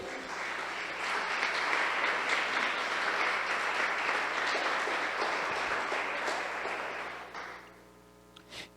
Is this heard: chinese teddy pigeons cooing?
no